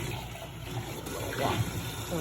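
A small holiday mug from Dollar Tree being rinsed under running water, a steady soft splash and trickle close by, with a brief spoken word over it.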